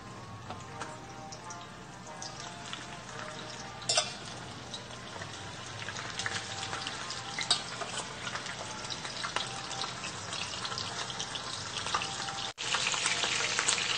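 Neck bones frying in hot oil while cooking lunch, a steady dense sizzle and crackle running throughout, with a brief louder pop near the start and a short dropout near the end.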